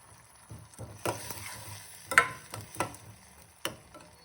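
Tamarind sauce for a tondekayi palya side dish bubbles softly in a pan, with scattered sharp ticks and clacks of utensils over a low simmering hiss.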